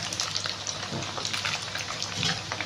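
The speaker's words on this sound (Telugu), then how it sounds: "ఇప్పుడు ఇందులోనే మనం కరివేపాకు కూడా వేసుకుందాం." Curry leaves hitting hot oil in a pan of chicken pickle, giving a steady, dense sizzle and crackle with no talking.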